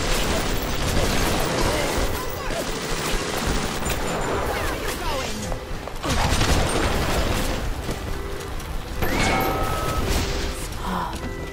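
Machine gun fire in BioShock rattles in sustained bursts alongside mechanical clanks and crashes, loud throughout, with game noise layered over it.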